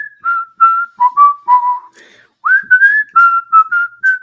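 A person whistles a short melodic tune up close, a run of clear pure notes with a brief pause midway before the phrase resumes, no talking.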